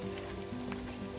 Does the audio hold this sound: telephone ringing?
no